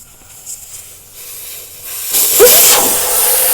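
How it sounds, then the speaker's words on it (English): Air rushes out of a tire valve with the valve core loosened, a loud, steady hiss that starts faintly and then bursts stronger, close up and continuous. "you can probably hear the air already"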